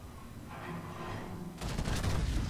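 The battleship Roma fires a naval gun salvo in a warship combat game, a heavy booming blast arriving after a quieter low rumble and rolling on into a loud, dense crackle.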